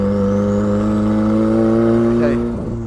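A 300bhp Mazda MX5 drift car engine runs loud and close with a steady droning note, rising slightly before dropping away with a rough stutter near the end.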